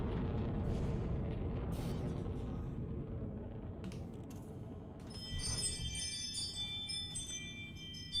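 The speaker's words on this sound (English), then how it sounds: "My god, this Ring doorbell of mine" A Ring video doorbell sounds its chime indoors: bright tonal bell notes ring out in the second half over a steady low rumble of background noise, with no talking.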